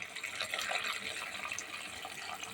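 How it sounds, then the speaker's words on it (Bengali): Tap water runs steadily into a kitchen sink as fish is rinsed during home lunch cooking, a soft continuous splashing stream at low level with no voices. "মাছটা আমি এখন ধুয়ে নেব মাছটা ধুয়ে নিচ্ছি"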